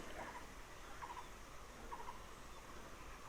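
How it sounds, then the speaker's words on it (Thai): Birds call outdoors beside houses, giving three faint clusters of short chirps spaced about a second apart over a steady background hiss. "มีเสียงนกร้องด้วย"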